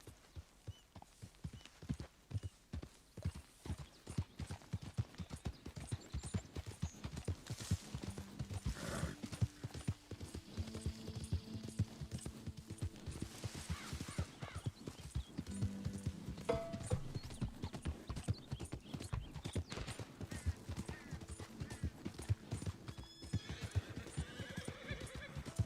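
Horse hooves clip-clop steadily at close range in a Red Dead Redemption 2-style video game, with a horse whinnying now and then over a busy bed of ambient game sound; a temporary brindle horse is present.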